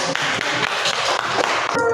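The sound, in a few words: classroom applause after presentation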